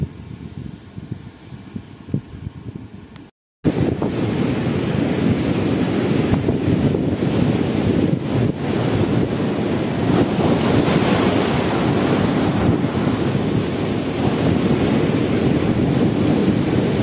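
Ocean waves wash steadily onto a beach, a loud continuous roar of surf with wind buffeting the microphone, after a quieter opening few seconds and a brief cut.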